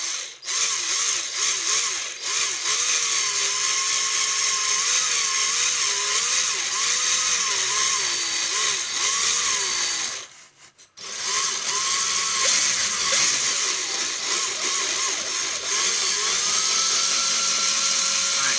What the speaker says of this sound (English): I'm just going to go ahead and drill through